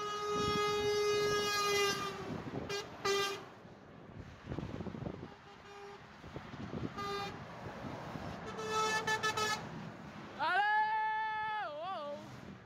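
Truck air horns blare on a highway in several long, loud blasts, some pitch-bending near the end, separated by road noise while people talk in between.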